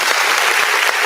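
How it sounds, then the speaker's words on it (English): Loud, dense applause from a crowd fills the whole stretch, steady clapping with no voices standing out. "you got to give a goddamn clap up for Carson Beck"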